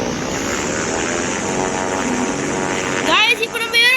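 A propeller aeroplane takes off, its engine drone steady and loud throughout, with rising tonal whine toward the end; a person talks over it.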